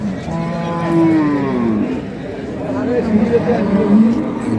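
At a cattle market, a cow lets out two long, loud moos close by, one after the other. Faint crowd chatter runs beneath them.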